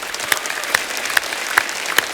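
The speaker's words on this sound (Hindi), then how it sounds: "जोरदार तालियां इनके लिए" Applause from the studio audience on a comedy show, a continuous bed of clapping marked by a few sharper, evenly spaced accents.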